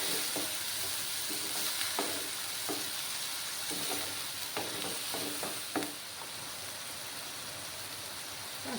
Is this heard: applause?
no